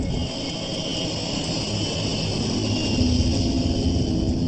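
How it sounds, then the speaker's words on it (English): Seaplane engines roar steadily at full power during a takeoff run on water, a loud, constant, droning rumble with a faint rise near the end and no voices. "This is the moment most passengers are paying for, the takeoff."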